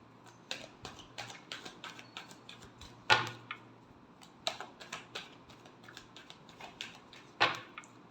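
Tarot cards being shuffled by hand for a Libra love reading: a scattered series of crisp snaps and flicks, close and fairly quiet, with a few louder slaps, and no one speaking.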